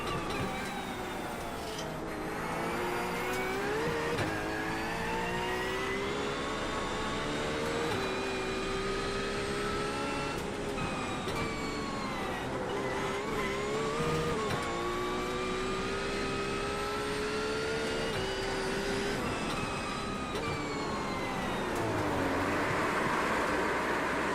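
A GT3 race car at Bathurst in a racing game, its engine droning and revving continuously as it warms up its tires, pitch weaving up and down over the steady whine, loud and close without speech.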